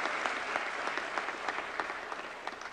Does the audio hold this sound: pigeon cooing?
no